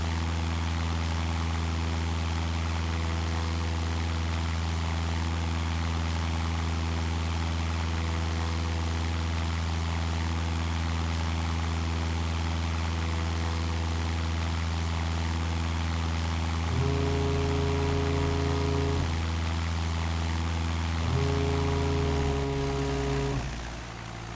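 A propeller airplane engine at reduced throttle, about 1,700 RPM, in the Flight Simulator 2018 FlyWings Android game gives a steady droning hum, with the pitch stepping up briefly twice toward the end.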